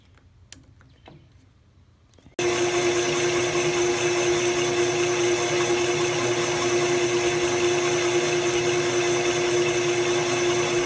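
Steady loud machine whine of a boring bar cutting a Honda CB750 motorcycle cylinder, bored out to 850cc on a cylinder boring bar, starting abruptly after a few faint clicks and holding an even tone throughout.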